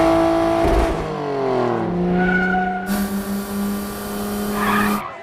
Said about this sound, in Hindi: लाल वाली गाड़ी धीरे-धीरे आगे बढ़ रही है